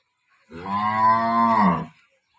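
A single dairy cow at milking time gives one long, loud moo lasting over a second, close up, against a quiet background.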